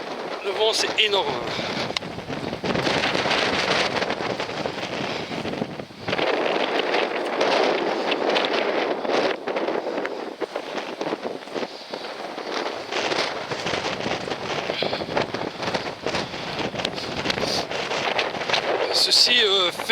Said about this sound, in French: Le vent c'est énorme.